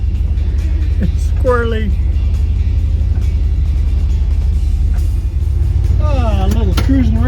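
A Dodge 440 big-block car engine drives through wet, heavy snow in Reno, a loud, steady low rumble throughout, with someone speaking briefly over it.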